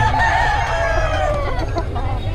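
A rooster crows loudly and close by, one long drawn-out call covering the whole moment, set against a steady low hum at a gamecock sale.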